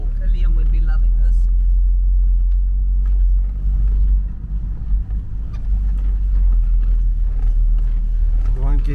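A car jolts along a rough sandy coastal track, a steady low engine and road rumble running throughout beneath people talking.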